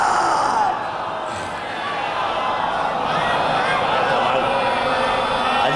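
A large religious gathering chants the salawat together, a loud, continuous massed chorus of voices that dips briefly and then swells again.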